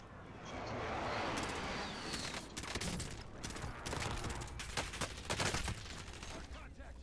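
Gunfire in a video game match, a sustained fusillade of rapid shots with sharp repeated bursts, loud and close, with bursts clustering toward the end and some speech faintly present.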